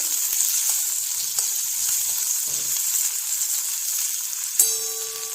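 A ground paste of ginger, green chili and curry leaves being mixed in a hot pan, with a steady loud sizzle, a few soft stirring scrapes and a sharp clank of the spoon near the end.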